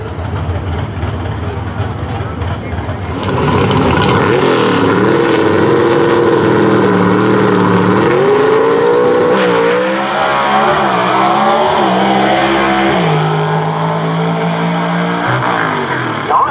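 A loud 451-cubic-inch gasser drag race car engine roars and revs continuously at a drag strip, pitch rising and falling as it accelerates, close and dominant throughout with no talking.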